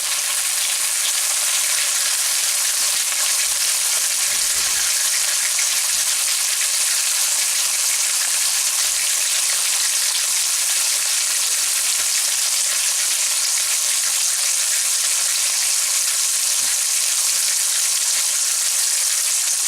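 Chicken livers sizzle gently in a pan over lowered heat. A steady, close, even frying hiss continues throughout with no speech.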